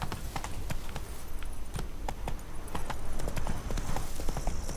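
Horse hooves galloping in The Witcher 3: Blood and Wine, a fast, steady clip-clop of hoofbeats on the ground that continues throughout, close and fairly loud.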